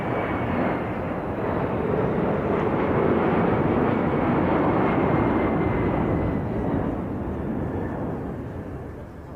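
An aeroplane roars past at the Duxford airshow in 1996, a loud, sustained engine rush that swells to a peak mid-pass and then slowly fades, heard alone without talk.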